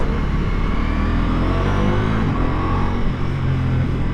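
A 2025 Ducati Multistrada V4S touring motorcycle is ridden, its V4 engine giving a loud, close, continuous roar with rising and falling pitch as it pulls along, with no voices.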